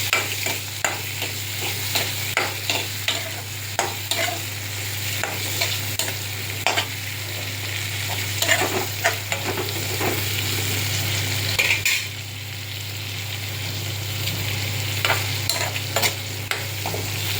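Tomatoes sautéing and being stirred in a pan for Chettinad-style pumpkin kara kuzhambu curry: steady close sizzle with repeated spoon scrapes and clinks against the pan, no voices, a constant low hum underneath.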